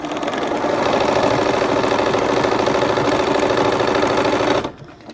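A sewing machine stitching pieced quilt blocks in continuous chain sewing, a fast steady mechanical whir running for several seconds before stopping abruptly, close and alone.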